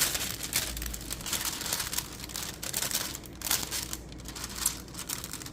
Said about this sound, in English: So I'm going to go ahead and rip off the plastic. And I'm going to fold it.